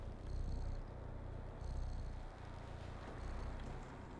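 A cat sleeping and purring in the video game Stray, a steady low rumbling purr in slow repeating pulses, near and soft, with faint ambient tones behind and no talk.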